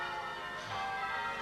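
Church bells ring in an English village, heard as a sustained, fairly quiet wash of overlapping metallic tones that hangs steadily without clear separate strikes.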